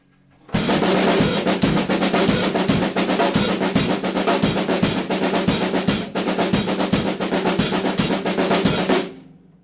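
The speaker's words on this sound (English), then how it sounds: "You can put the accents on the hi-hat with a bass drum" A steady drum groove plays loudly and continuously, with crisp hi-hat accents pulsing over regular bass drum thumps for several seconds.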